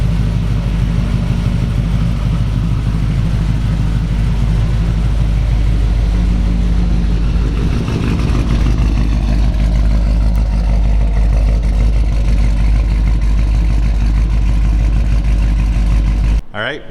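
Supercharged LSA V8 in a 1955 Chevy Bel Air idling loud and close, a deep steady rumble with a slight swell in revs partway through before cutting off abruptly at the end.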